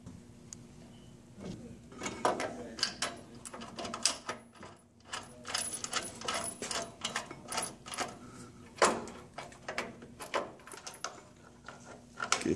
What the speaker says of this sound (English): It's a 12 millimeter bolt with a 19 millimeter head. We're torquing these down to 85 foot-pounds.